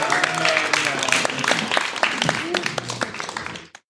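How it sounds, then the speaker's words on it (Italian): An audience applauds with dense, steady clapping that continues for a few seconds before breaking off abruptly, while scattered voices rise over it. "Un applauso a Luca Antonello."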